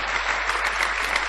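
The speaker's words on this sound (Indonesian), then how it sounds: "Yang setuju berikan tepuk tangan yang meriah buat Tuhan." A church congregation gives a brief, lively burst of applause during a sermon on family, dense clapping from many people.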